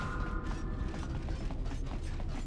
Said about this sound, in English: Airlock terminal, open the pod bay door